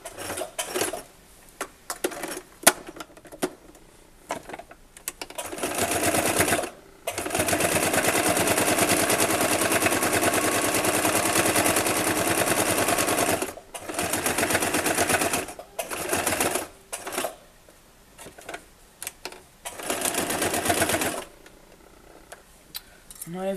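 A sewing machine stitching through thick layers of fabric, a rapid mechanical rattle in long runs broken by pauses and shorter bursts, up close.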